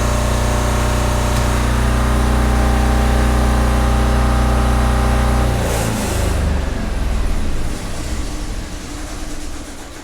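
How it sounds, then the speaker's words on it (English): A home standby generator in the Philippines drones loudly with a steady engine hum, then winds down midway as the automatic transfer switch shuts it off, leaving a fading, rougher rundown. "Now the ATS should sense the utility company is stable, shut the generator down with no interruption to service."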